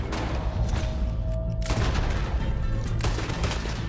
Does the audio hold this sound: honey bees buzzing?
no